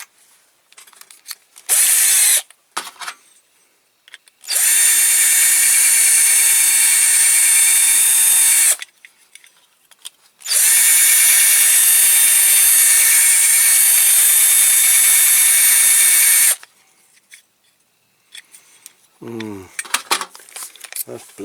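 A power drill bores into a die-cast metal Matchbox King Size Aveling-Barford road roller model during restoration, running in two long steady bursts of several seconds each, with brief handling clatter between and after.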